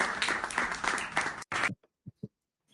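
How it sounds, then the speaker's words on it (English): Applause from a live talk-show audience, a dense burst of clapping lasting over a second before cutting off into near silence with a few faint scattered claps. "round of applause to you"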